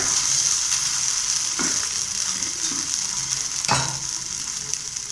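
Rava batter cooks in oil on a pan, a constant bright hiss with two sharp utensil knocks against the pan, close and alone.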